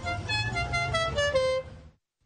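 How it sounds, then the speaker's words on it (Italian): A blaring car horn honks continuously for under two seconds, loud and brassy with a wavering pitch, then cuts off into silence. "tra gran frastuono di clacson e trombette"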